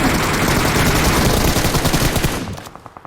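Loud, close automatic gunfire from PUBG Mobile, a dense rapid burst that fills the moment and then trails off into a few separate fading shots.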